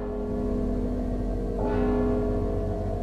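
A bell rings in the stealth video game Mark of the Ninja, sustained resonant tones humming steadily, with a fresh strike swelling the ringing about halfway through.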